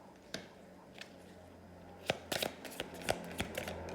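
Tarot cards drawn and laid down one after another during a reading, giving a handful of crisp slapping snaps and papery shuffles that cluster in the second half, close and fairly quiet.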